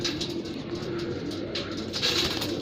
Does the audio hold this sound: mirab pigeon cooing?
yes